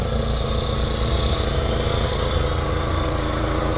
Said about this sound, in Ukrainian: Чуєте наш двигунчик, як працює, стоїть газове обладнання.